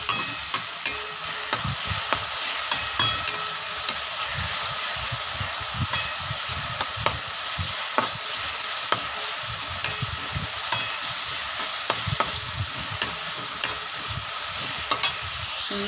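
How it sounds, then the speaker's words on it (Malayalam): Onions sizzle steadily in plenty of coconut oil for a spicy chicken curry, a dense, continuous frying hiss punctuated by regular ladle taps and scrapes against the pan, close and fairly loud, with nobody speaking. "നമ്മളത് വെളിച്ചെണ്ണയിൽ നന്നായിട്ടൊന്ന് മൂപ്പിച്ചെടുക്കണം"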